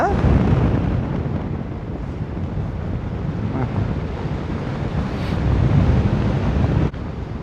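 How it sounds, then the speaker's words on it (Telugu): Strong wind buffeting the microphone in a continuous loud roar with gusty surges, close and rough throughout, while paragliding over Pokhara, Nepal. "బాగా గాలి వస్తుంది పైన"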